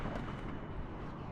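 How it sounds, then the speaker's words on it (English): A big explosion in the real-time strategy game WARNO produces a dense, loud, rumbling blast that fills the whole short moment without pause. "Big explosion."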